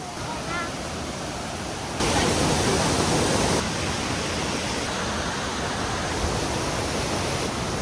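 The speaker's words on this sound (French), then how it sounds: "Je parle fort parce qu'il y a les cascades." Constant rushing water roars from waterfalls in Cambodia, a dense hiss that swells louder for a couple of seconds then settles back.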